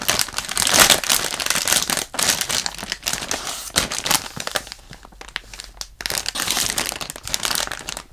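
Plastic packaging around a large Sacher Torte squishy toy from an iBloom and Moosh collaboration crinkles and crackles loudly and close up, in dense, busy bursts with one brief lull, with no talking.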